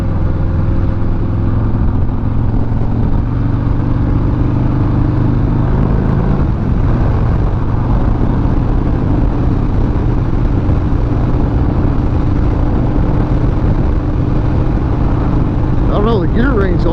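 A 2020 Harley-Davidson Fat Bob motorcycle cruising at highway speed, its engine droning steadily and loud throughout, with heavy wind rush, while a rider talks over the noise.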